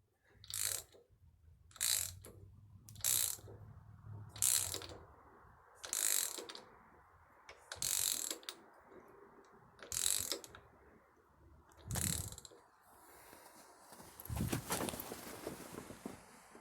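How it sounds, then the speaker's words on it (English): A harmonic balancer installer tool on a 1958 AMC Rambler Super engine draws the balancer on in about ten separate ratcheting bursts, evenly spaced and close, with quiet pauses in between. "now it's starting to pull the harmonic balancer in"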